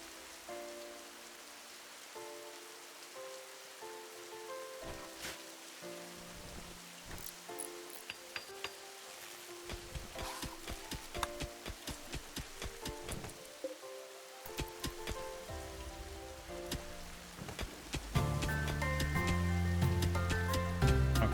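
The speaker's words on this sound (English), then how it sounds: "Now, we do have the rain irrigating" Rain falls in the game RimWorld, a continuous patter of drops on a surface, fairly quiet and alone, with tonal game music building and growing louder near the end.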